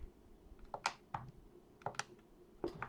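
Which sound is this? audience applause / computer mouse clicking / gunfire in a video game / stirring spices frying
computer mouse clicking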